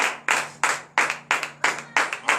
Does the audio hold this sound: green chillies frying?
no